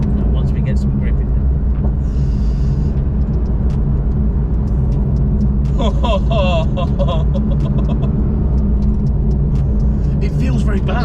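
Porsche 911 GT3 RS Weissach engine roars steadily from inside the car, with a quick gear change snapping through midway, while occupants talk over the constant drone.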